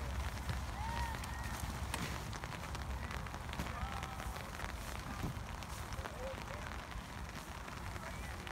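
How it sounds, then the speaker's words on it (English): Steady rain hisses down at an outdoor youth soccer game, a dense continuous wash of drops with faint voices and distant shouts mixed underneath. "I can't imagine sitting there in the rain in my shorts"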